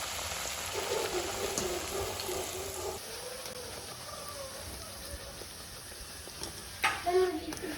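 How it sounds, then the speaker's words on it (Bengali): Green pea luchi deep-frying in hot oil gives a steady, close bubbling sizzle throughout, with brief bursts of louder spattering near the end while faint voices murmur underneath. "এবার সবগুলো কিন্তু এভাবে ভালো করে ভেজে নিতে হবে।"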